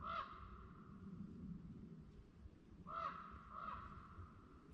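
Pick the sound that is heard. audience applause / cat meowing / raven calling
raven calling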